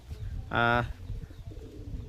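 A large pigeon gives one short, close coo, a brief mellow burst that stands out over low background murmuring and handling noise.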